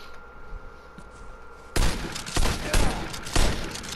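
Shotgun fire in the video game Vigor: four heavy booming blasts at roughly half-second intervals, loud and close, starting after a quieter stretch of ambient background.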